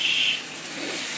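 Stingray liver is rinsed under running tap water in a kitchen, producing a brief, steady gushing splash heard close up with no talking.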